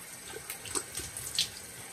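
Tap water running at a sink for rinsing after a shave, a soft, continuous splashing flow heard close and fairly quiet with small sputters.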